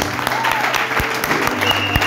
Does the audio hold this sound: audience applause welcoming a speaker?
yes